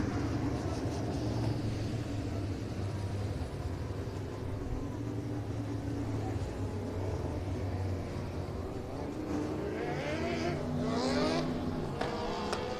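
Lone Star Dwarf race cars at Heart O' Texas Speedway drone continuously at a distance, with engines swelling as cars roar past toward the end.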